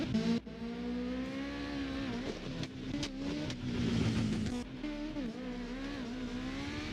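A custom Toyota A90 Supra drift car at a CSG Drift qualifying round, engine held at high revs with a steady droning note, rising and dipping as the throttle shifts, tires squealing through the slide.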